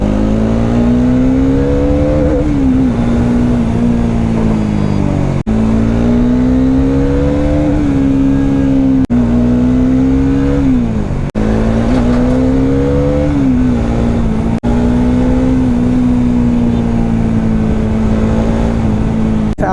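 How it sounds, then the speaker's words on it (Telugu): A loud superbike engine drones close by, its pitch rising and dipping in repeated waves as the rider shifts through gears and accelerates, with a Bajaj Dominar exhaust roaring in the mix. "అది ఒక సూపర్ బైక్"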